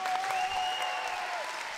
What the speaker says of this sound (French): Donc merci d'applaudir